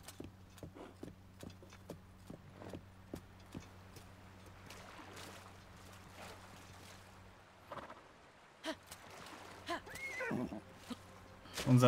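Hooves clip-clop steadily with an occasional neigh from a horse in the video game The Legend of Zelda: Tears of the Kingdom, faint and even over a low ambient hum, with a louder whinny near the end.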